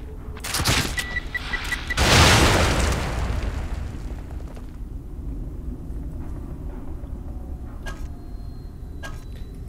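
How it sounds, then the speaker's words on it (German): An explosive bolt detonating in the video game The Evil Within: a sharp click and short beeping, then a loud booming blast that rumbles and fades into a lingering low background, with faint clicks afterward. "Wir testen mal den Explosionsbolzen."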